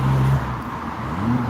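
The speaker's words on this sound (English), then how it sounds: "I don't like this noise from the cars" Passing cars on a road in autumn in Sweden, a steady low engine drone with a humming tone that fades briefly, then returns and rises slightly as another vehicle approaches.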